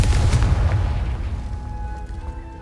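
A Confringo explosion spell cast in Hogwarts Legacy, a loud deep boom with rumbling low-end that slowly fades, followed by a thin ringing shimmer as it dies away.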